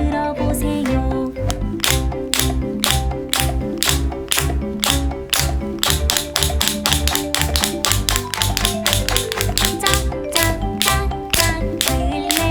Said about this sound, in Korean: 클래퍼 손뼉 소리 만드는 클래퍼